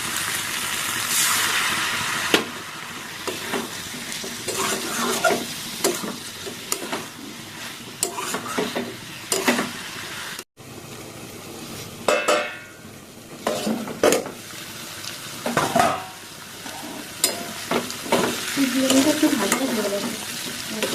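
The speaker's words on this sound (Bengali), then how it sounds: "ভেজে রাখা আলু দিয়ে দিলাম আলু দিয়ে কষিয়ে দেবো" Fried potatoes stirred and sautéed in a wok, with repeated scraping stirs and clinks of a spatula over steady frying sizzle, close and fairly loud throughout with no talk.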